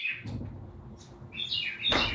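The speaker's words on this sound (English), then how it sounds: "That bird is really loud." Loud, close bird chirps in bright bursts, with a sharp call near the start and a cluster of shrill tweets toward the end.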